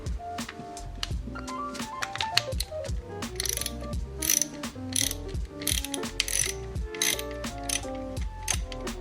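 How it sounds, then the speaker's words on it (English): A T20 Torx driver unscrews BMW interior trim pieces, giving a busy run of quick ratcheting clicks and rattles close up, loud and uninterrupted with no talking. "So I'm gonna be unscrewing this piece here and this piece here"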